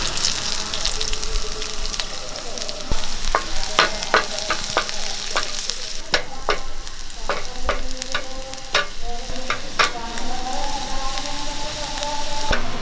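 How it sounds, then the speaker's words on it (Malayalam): Sliced shallots fry in coconut oil for a kanthari rasam tempering, a close, steady sizzle and crackle broken by repeated sharp spoon clinks and stirring scrapes against the pan. "കുറച്ച് വെളിച്ചെണ്ണ ഒഴിച്ചു കൊടുക്കാം ഒരു നാല് ചുവന്നുള്ളി അരിഞ്ഞ് വെച്ച് കൊടുക്കാം"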